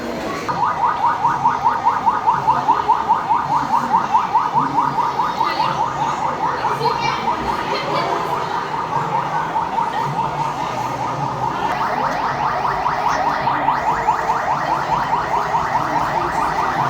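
An ambulance siren at the KidZania indoor play city wails in a fast, steady warbling pattern, loud and continuous, shifting pitch partway through over a murmuring crowd.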